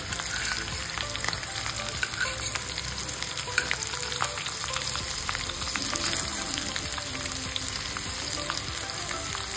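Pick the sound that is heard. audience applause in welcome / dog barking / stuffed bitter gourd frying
stuffed bitter gourd frying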